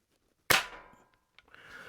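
A Sheridan Blue Streak pump air rifle fires a single sharp, loud crack that decays quickly, followed by a faint click and low rustling.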